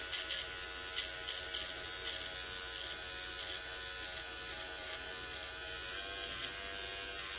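A BaBylissPRO electric hair trimmer cutting a hairline on coarse, curly hair: a continuous high buzzing hum, fairly quiet and steady, with faint scraping as the blade works, no talking.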